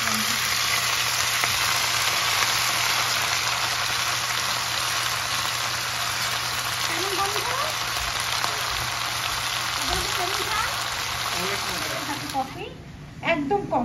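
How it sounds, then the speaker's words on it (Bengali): Leafy greens (shak) frying in a home kitchen pan, giving a steady, dense sizzle and spatter that runs the whole time, with people talking faintly over it before it drops off near the end. "আমার ও রাব্বু শাক ভাজি করতেছে"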